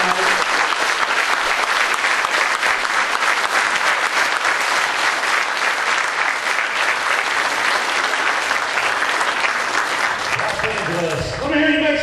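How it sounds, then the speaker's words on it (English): An audience at a horror convention panel applauds loudly and continuously for about twelve seconds, a dense wash of clapping with a few voices rising near the end. "And put a round of applause for them."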